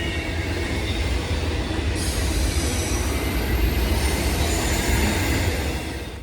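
A long freight train with container wagons rumbles past close by with a steady heavy roar, rattling wagons and a faint metallic squeal throughout, with no pause.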